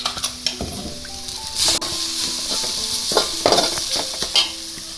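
Elephant-foot-yam leaf thoran with coconut paste, chilli and turmeric stirred in a hot pan, steady sizzling with repeated scraping strokes of a spoon against the pan, close and fairly loud, no voices.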